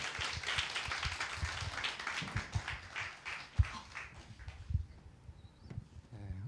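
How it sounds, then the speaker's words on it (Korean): A church group at a Korean training forum claps steadily, giving dense crowd applause that fades gradually toward the end. "박수 부탁합니다."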